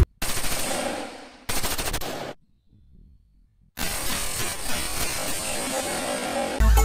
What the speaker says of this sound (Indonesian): Dan ini senapan serbu.